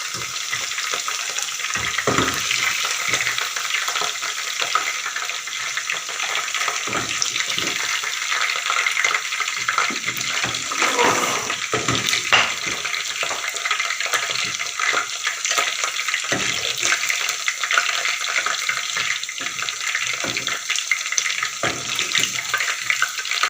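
Chicken pieces for Chicken Manchurian frying in hot oil, a loud steady sizzle with scattered clinks and scraping of a utensil, close up and without speech.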